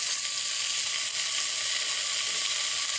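Strips of hog jowl sizzle steadily in the bottom of a Dutch oven, a dense, continuous crackling fry that holds at an even level throughout with no voices.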